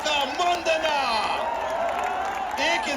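A large outdoor crowd at the Pushpa 2 trailer launch event at Gandhi Maidan, Patna, claps and cheers in a loud, sustained roar with scattered whoops and shouts, steady throughout.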